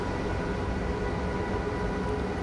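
A train runs in a train simulator video game, a steady, loud rolling rumble of wheels and engine that holds evenly from start to finish with no talk.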